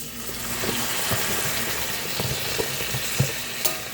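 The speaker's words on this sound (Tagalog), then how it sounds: "igisa na natin yung kalabasa at talong" Squash and garlic-laced eggplant sautéing in a pan, a steady close sizzle with scattered stirring scrapes and clicks throughout, no voices.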